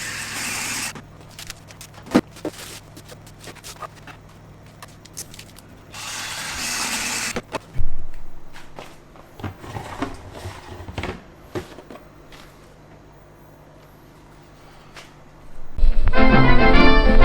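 A whisk stirs homebrew SMASH pale ale wort made with Cascade hops to aerate it before the yeast goes in. Short bursts of splashing, frothy agitation come and go between quieter stretches, close and fairly loud, with no talking.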